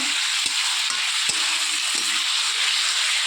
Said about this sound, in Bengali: মশলাটার সঙ্গে আলুটাও ভালো করে কষানো হয়ে গিয়েছে। এখানে সেদ্ধ করে রাখা ডিমগুলো দিয়ে দিলাম